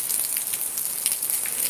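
Steady rain falling in Cabo Verde, a dense even hiss of drops with faint scattered patters, close and constant throughout with no voices.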